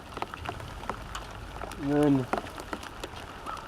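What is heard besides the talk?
rain falling outdoors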